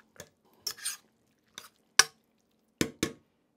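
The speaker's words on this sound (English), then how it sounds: "So I'm going to add in the beans. It says now to cook this for 20 minutes. So I'm going to stir them in." Beans being stirred into bacon in a pot for a 1930s Spanish beans dish: a handful of separate spoon scrapes and clinks against the pot, close and sparse, with quiet gaps between strokes.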